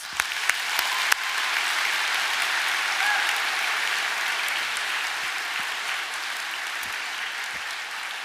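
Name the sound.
audience applause for the sponsors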